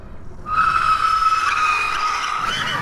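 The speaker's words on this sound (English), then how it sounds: "Tire screeching is very loud on both of these bikes." Loud, sustained tire screech from a Power Goat V2 eBike, starting abruptly after a brief quiet moment and holding a steady high squeal for over two seconds.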